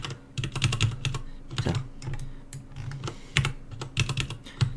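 Keys on a computer keyboard are pressed in quick, uneven bursts while shortcut keys are set up and tested in Body Paint 3D. The clicks are close and crisp, with brief pauses and no talking.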